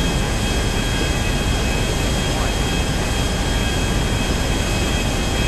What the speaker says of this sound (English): Coming in for an emergency landing.